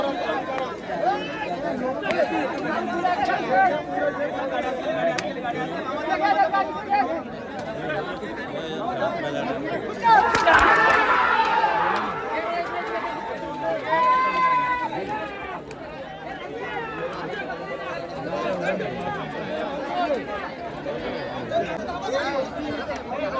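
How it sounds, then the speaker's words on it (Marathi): Crowd at a holiday bullock cart race at Kongav adda near Mumbai: dense, continuous babble of many voices, close and loud, with a louder surge of shouting partway through. "आज खूपच गर्दी आहे सुट्टीवर"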